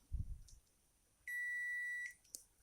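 Electronic tester checking a TV power supply capacitor gives one steady, high-pitched beep lasting about a second, clear and close, with only a faint click before and after.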